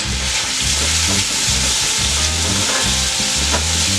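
Ham and white beans stirred in a hot pot, a loud close bubbling sizzle with a rhythmic scraping stir repeating about every half second across the whole stretch, with no speech.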